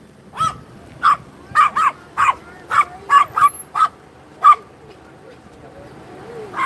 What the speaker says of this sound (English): The little yapper barking in the background.